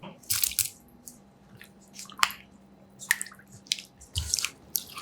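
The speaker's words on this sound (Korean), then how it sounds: "물기를 꾹 짜서 준비해주세요" Blanched broccoli is squeezed by hand to press out the water, with wet squishing and dripping in several quick bursts, close up and fairly quiet, with no talking.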